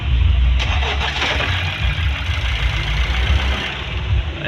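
A Honda CR-V with a 1.5 turbo engine starts up and settles into a steady, loud, close-up running rumble that fills the whole stretch without pause.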